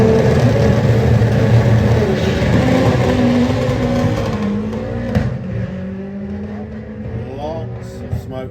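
A Vauxhall Corsa drag racing at Santa Pod during a sports compact shootout, with a loud sustained engine roar that holds steady, then drops in pitch and fades slightly as the car runs away, over constant crowd and announcer talk.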